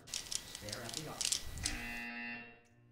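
A harsh electronic buzzer sounds in the Portal 2 video game after a few clicky mechanical ticks and a low thump, holding steady for about a second before cutting off into near silence.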